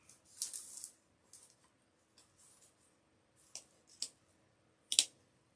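Grapevine being trimmed for a magnolia wreath gives quiet, close snips and rustles, with a few separate crisp cuts spaced across an otherwise hushed room.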